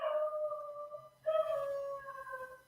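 Dog howling in two long, wavering, sustained calls with a short pause between, fairly clear and alone with no voices.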